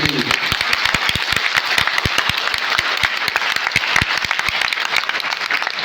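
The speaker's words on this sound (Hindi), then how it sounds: "एक जोरदार तालियां होनी चाहिए" Seminar audience claps hard, many sharp individual claps standing out within a continuous bed of applause, steady and close for the whole stretch.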